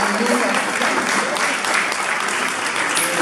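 Audience applause at an awards gala for the Opole County Magnolia prize, a dense, even wash of clapping from a seated crowd, loud and continuous throughout with faint voices mixed in.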